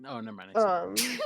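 A single sharp sneeze bursts out close and loud after a brief spoken phrase during a tabletop roleplaying game session.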